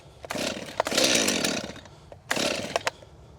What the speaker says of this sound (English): 3 points of contact when you're starting a saw